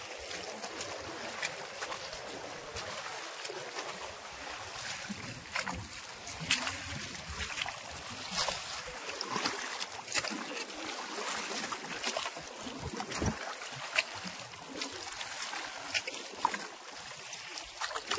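An engineless fishing boat at sea is rowed by hand with oars, giving soft, irregular water sloshes and faint wooden knocks under light wind noise.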